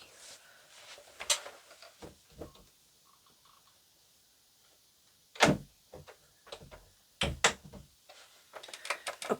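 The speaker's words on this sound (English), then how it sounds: "my dog needs to go out the door here" A house door being opened and shut to let a dog out, with scattered knocks, clicks and a couple of sharp thuds separated by quiet pauses, close by and fairly faint.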